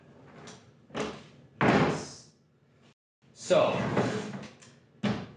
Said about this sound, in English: this is the drawer that, if you'll recall, was underneath one of the dinette seats